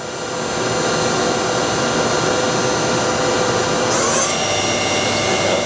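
The sub spindle of a 2008 Doosan Puma 2000SY multi-axis CNC turning center runs with a loud, continuous broadband whirr and steady high whine, shifting slightly partway through, close and without voices.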